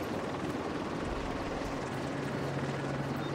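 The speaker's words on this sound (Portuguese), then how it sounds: "Helicóptero retornado" A helicopter in the video game The Division 2 produces a steady, low rotor drone and engine rumble, moderately loud and continuous, with no speech over it.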